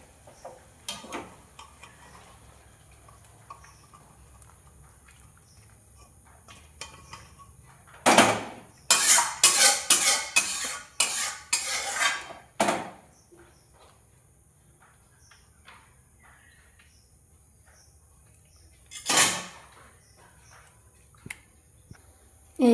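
Cooked mocha ghonto, banana-flower curry with mung dal, is poured from a pot into a serving dish: a cluster of clattering metal scrapes and knocks in the middle, then a single later clank, with quiet gaps between.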